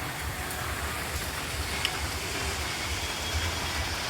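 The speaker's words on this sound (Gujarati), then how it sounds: "વરસાદ તો બહાર ચાલુ જ છે" Steady rain falls outside during a monsoon stay at Matheran, a continuous even hiss with faint low rumbling and no voices.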